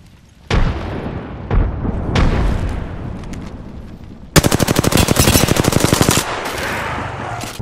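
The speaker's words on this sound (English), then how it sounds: "Throwing a grenade." Video game battle royale match with a grenade blast and bursts of gunfire: heavy booms near the start, then a loud, rapid automatic-weapon burst of evenly spaced shots lasting about two seconds, close and with no talking.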